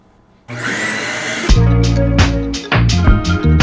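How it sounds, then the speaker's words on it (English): Household vacuum cleaner switching on with a steady loud whine and roar, then continuing while heavier bumps and clunks from moving it around the room break in near the microphone. "Done vacuuming."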